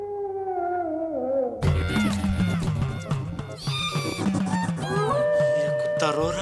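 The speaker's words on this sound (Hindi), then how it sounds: "ये कुत्ता रो रहा है" A dog howls and cries in a long, wavering wail that rises and falls, heard close amid background music and other sound effects in a comedy scene.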